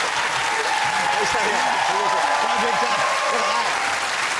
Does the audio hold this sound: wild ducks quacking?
no